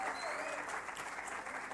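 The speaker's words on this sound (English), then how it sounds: "Can we please give them a round of applause" An audience at a Botswana women's sports awards ceremony applauds, a dense, even wash of many hands clapping, moderately loud and sustained throughout the short stretch.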